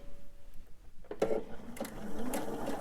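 A sewing machine chain pieces fabric, with a faint hum first and then a few short bursts of stitching that start and stop close by.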